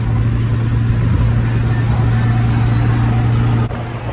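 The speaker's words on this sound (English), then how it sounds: "Cruising in Willie's car." Willie's Honda-tuned car cruising down the road with a steady, loud engine drone and road rumble throughout, a brief dip near the end.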